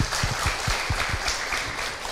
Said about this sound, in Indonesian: Tepuk tangan untuk Ibu Sumiati